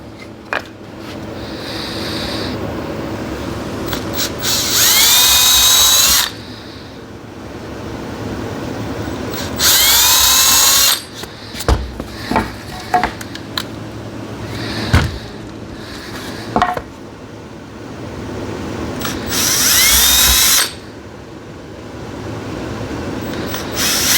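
A power drill with a countersink bit whirs in three bursts, each winding up high and steady for about two seconds, with quieter workshop clatter and taps in between.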